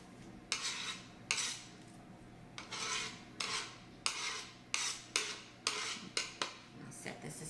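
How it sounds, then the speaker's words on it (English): Shredded apple being scraped and dropped into a bowl for a gluten-free vegan apple spice cake, a series of about ten short rasping scoops at a steady rhythm, close and fairly loud, with no talking. "Start with putting the shredded apple into the bowl."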